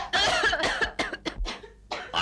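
A woman coughs in a rapid cluster of harsh, close bursts, followed after a short pause by another cough.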